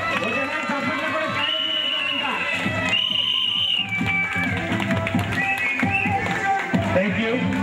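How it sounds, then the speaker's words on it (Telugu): A crowd at a Sankranthi prize announcement breaks into sustained applause, mixed with cheering, music and overlapping voices, loud and continuous throughout. "చప్పట్లు కూడా"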